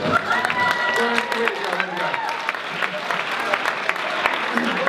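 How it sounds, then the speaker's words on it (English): An audience at a dating-show-style event applauds the contestants with steady, dense clapping. Voices and cheers rise over the clapping throughout. "Round of applause for our contestants tonight."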